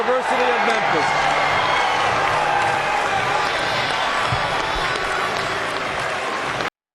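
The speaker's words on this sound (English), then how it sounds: "The applause inside the theater lasted only a few seconds." Applause in a theater at the 2008 NBA draft, a steady crowd roar of clapping and cheering that holds for several seconds and then cuts off abruptly.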